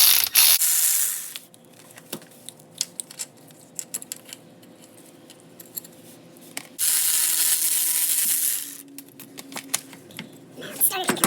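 A ratchet loosens a 14mm starter bolt on a Nissan Z31, giving bursts of rapid clicking with separate knocks and clanks in between, close up, while louder hissing noise opens the clip and returns partway through.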